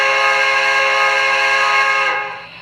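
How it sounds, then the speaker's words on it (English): A loud steam whistle on an MTH Premier B&O Heavy Pacific model train blows one sustained, bright chord-like tone for about two seconds, then trails off as the whistle closes. "Okay, first up, let's check out the whistle."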